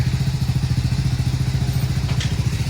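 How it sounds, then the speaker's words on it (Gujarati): A motorcycle engine idles and revs with a rapid, throbbing low putter, close and loud, steady for a few seconds without speech. "ભાઈ બાઇક રેસ મારે છે"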